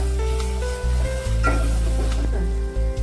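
Salt being stirred into palak dal in a cooking pot, a steady sizzle with soft scraping stirs and a few brief dips, close and fairly loud with no talking.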